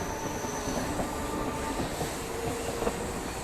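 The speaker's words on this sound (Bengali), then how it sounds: "এই ময়দান স্টেশন ছেড়ে কিন্তু ট্রেন ছেড়ে বেরিয়ে গেছে" A local train rolls out of a small station just before Kharagpur, a steady loud rumble of carriages and wheels on rails with faint squealing and a few clicks, no talk.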